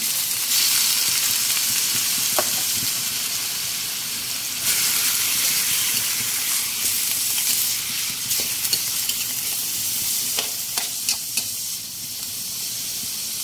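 Chicken pieces hitting a hot pan with ginger, bursting into loud steady sizzling and frying, with a few sharp crackles and stirring clinks over the continuous hiss.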